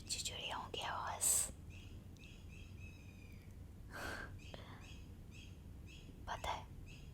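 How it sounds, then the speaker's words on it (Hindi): Small birds chirp in short, bright bursts outdoors during a walk, scattered calls coming and going at a distance over quiet background hiss, with soft whispering and breathy sounds close by. "और इतनी अच्छी अच्छी चिड़ियाओं की आवाज़।"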